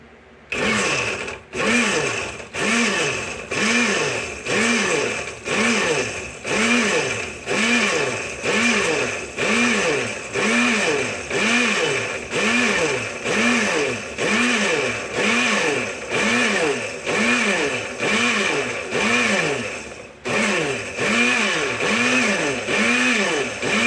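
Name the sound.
blender blending cooked mixture for homemade Tabasco sauce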